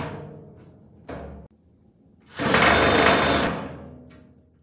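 Power drill driving screws into the side panels of an Adoorn package box during assembly: a couple of short clicks and trigger taps, then a loud, close whirring burst of about a second that tapers off.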